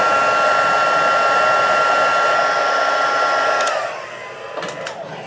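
A heat gun melts embossing powder on cardstock, blowing with a loud, steady whirring roar that softens and drops in pitch toward the end, with a few faint clicks.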